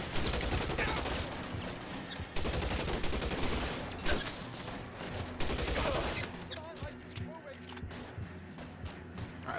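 Thompson submachine gun fire in the L.A. Noire video game, with dense rapid bursts and overlapping gunshots over mixed game sound and shouting voices, loud and continuous before easing off near the end.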